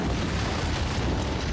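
An antimatter charge explodes aboard a ship in Halo Combat Evolved, giving a brief, loud, steady roar of blast and rumble with no gaps.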